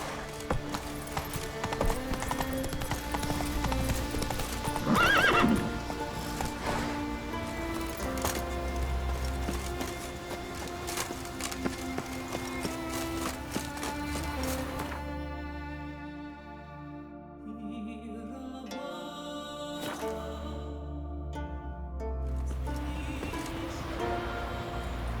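Roach the horse gallops in The Witcher 3: Wild Hunt, a steady, rhythmic clip-clop of hooves that runs throughout over a background music score, with a brief louder burst near the start.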